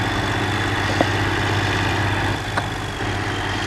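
An Ursus tractor engine idles in a farming video game, a steady low rumbling hum that holds even throughout with only a faint dip near the end, and no one speaks.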